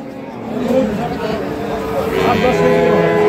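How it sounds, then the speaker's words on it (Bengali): Dairy cows and calves low and bleat amid a busy crowd, with voices chattering throughout the noisy outdoor Ambari cattle market. "আরেকটি গাভী বাছুর দেখছি"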